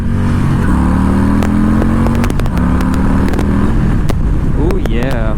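A 2021 Harley-Davidson Low Rider S motorcycle revs hard up to its rev limiter, its engine note rising and bouncing in stepped pulls with clattering mechanical noise, loud and close, followed by a quick climbing rev at the end.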